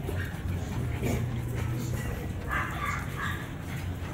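American Bully puppies yip and whimper in short bursts over a constant background hum, with faint voices nearby.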